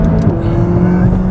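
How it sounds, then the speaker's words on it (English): A McLaren 570S engine pulls hard under acceleration, a loud steady mechanical drone with a rising tone, heard close and without talk over it. "Explosive acceleration, just massively quick."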